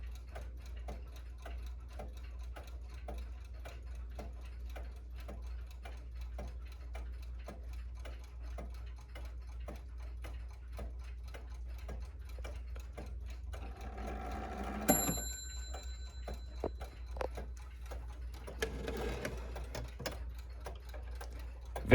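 An 1840s F.C. Andrews Ogee clock ticks in a steady, even rhythm, close and clear over a low hum, with a brief metallic clatter and ringing partway through before the ticking resumes.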